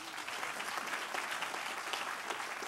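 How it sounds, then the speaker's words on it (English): Steady applause from an audience at a groundbreaking ceremony fills the whole stretch, a dense even patter of many hands clapping, moderately distant. "give them a round of applause"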